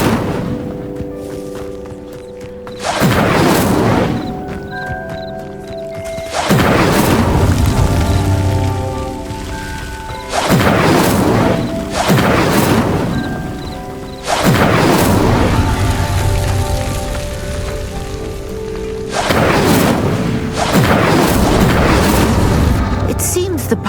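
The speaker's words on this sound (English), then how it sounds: "Clearly, all three of these pyres are meant to be lit." Incendio spell lighting pyres in the Hogwarts Legacy video game, heard as repeated loud whooshing fiery bursts roughly every few seconds over a steady game ambience.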